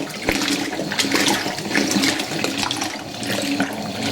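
Water rushes and splashes continuously during the deep rinse in a Fisher & Paykel washing machine, a loud, turbulent flow with occasional thumps and no talking.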